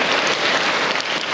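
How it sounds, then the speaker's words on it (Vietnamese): A short burst of enthusiastic applause from a crowd, steady and loud throughout. "Một tràng pháo tay to."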